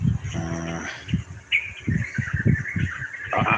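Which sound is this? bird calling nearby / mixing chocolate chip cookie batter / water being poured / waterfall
bird calling nearby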